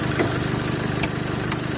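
A 2013 Chevrolet Colorado engine idling with a failing AC compressor and worn alternator pulley, a steady close mechanical hum and whine broken by a few short sharp ticks.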